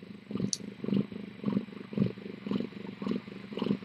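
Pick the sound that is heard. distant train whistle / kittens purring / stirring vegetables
kittens purring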